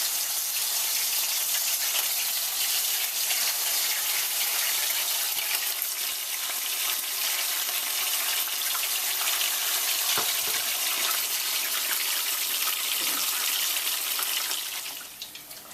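Sabudana tikki coated in soaked sago pearls frying in hot oil, a steady, dense sizzle and hiss that holds evenly throughout with a few faint clinks near the end, no voices.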